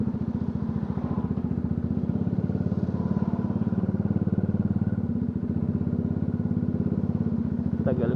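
Motorcycle riding on a road toward Batangas, its engine a steady, loud, close low drone with a pulsing rhythm that stays even throughout, plus faint wind and road noise.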